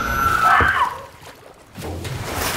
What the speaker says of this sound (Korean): 또다시 컨테이너 안으로 밀려들어오는 바닷물